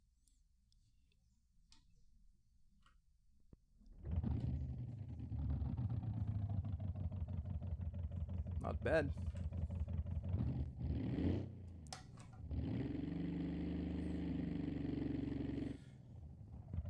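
A VW Boxer engine in a drag racing car in a video game idles softly, then roars up and holds a loud buzzing drone, drops briefly, revs again and cuts off. A voice speaks briefly.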